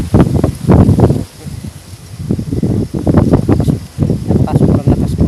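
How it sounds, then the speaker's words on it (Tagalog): Strong gusts blow through rustling leaves in surging bursts, heard from high up in a tree, loud and close, with the rushing rising and falling in waves. "sobrang lakas po ng hangin dito"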